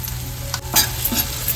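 Masala stirred into a sizzling onion-tomato gravy for a spicy crab curry, a soft steady sizzle with a couple of quick spoon scrapes, close and brief, no voices.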